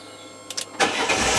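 Fiat 500 Dualogic automatic convertible cranking briefly, then its engine catching and settling into a steady idle, loud and close with no talking.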